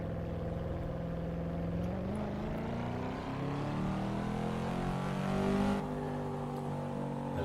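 Road car engine in Assetto Corsa at Road Atlanta, Georgia, a steady low droning hum that rises gradually in pitch as the car pulls away in gear, heard alone at moderate loudness throughout.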